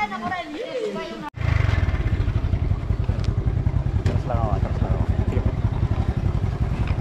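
A rented motorcycle engine running steadily on a mountain road near Los Baños, Laguna, loud and continuous after a brief pause, with people talking over it.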